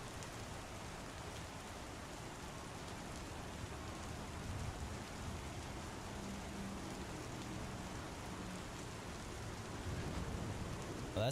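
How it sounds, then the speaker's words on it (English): Rolling thunder during a rainstorm in the Star Citizen video game sounds as a low continuous rumble under steady hissing rain. The rumble swells slightly near the end, and no one speaks. "Well, that sounds like thunder."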